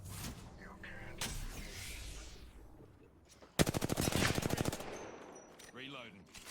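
Apex Legends gunfire: a loud, rapid automatic burst of closely spaced shots lasting about a second, preceded and followed by scattered single cracks, mechanical clicks and a character's voice lines.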